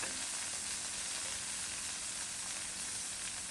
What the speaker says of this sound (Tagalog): igisa na natin yung ating ampalaya